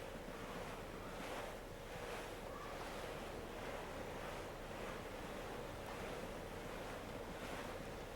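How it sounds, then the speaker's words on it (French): Steady wind and ocean surf at sea aboard a sailing ship in Assassin's Creed IV Black Flag, a continuous soft rushing wash with gentle swells rising and falling, faint and without voices. "Le vent a forci."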